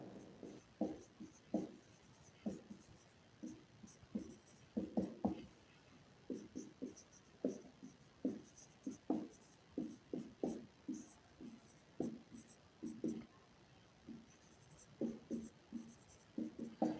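Pen strokes scratch out a geometry proof by hand in a class 9 maths lesson about quadrilaterals, a steady run of short, close scratching bursts with brief pauses and no talk over them.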